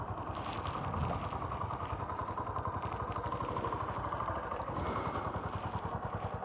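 A Yamaha XTZ Crosser 150 motorcycle engine idles close by with a steady, rapid low thumping and mechanical clatter, unbroken throughout.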